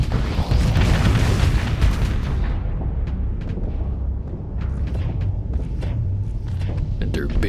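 Missiles firing and exploding in a space battle in the game Starsector, a steady heavy rumble of booms and bursts that goes on throughout, with sharper blasts popping over it.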